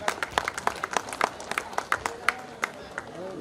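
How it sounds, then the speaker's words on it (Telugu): A church congregation at CSI Church Dudayala applauds, with scattered, uneven claps in short bursts that rise and fall under a speaking voice. "చప్పట్లు కొట్టాలండి గట్టిగా"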